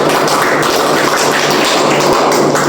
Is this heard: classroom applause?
yes